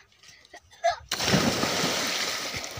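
A back handspring lands in shallow river water with one sudden loud splash, followed by sustained splashing and sloshing; quieter sounds and faint voices come before the impact.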